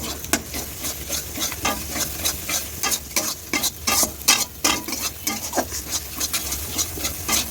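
Egg is stirred into sizzling, well-fried masala in a pan for home-style egg tarka: repeated scraping strokes of a spoon in an uneven rhythm over a constant soft frying hiss, close up with no talking.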